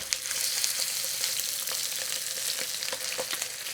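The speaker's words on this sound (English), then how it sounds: "We want to sear these, get a good browning on them." Chicken thighs sear in a hot pan with garlic, giving a steady, close, continuous sizzle and crackle with scattered sharper pops throughout; no one speaks.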